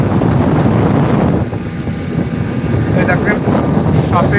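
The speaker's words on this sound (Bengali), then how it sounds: "স্পিড বোটে আমরা এখন আছি" A speedboat runs on a river with a steady, loud engine roar and wind buffeting, and someone talks over it throughout.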